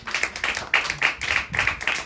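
An audience at a Christian prayer gathering claps together in a quick run of sharp, fairly close hand claps, several in a row with short gaps between.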